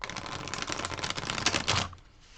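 Tarot cards being shuffled by hand, a rapid run of crisp papery riffling and flicks, close and fairly loud, ending in a brief quiet tail.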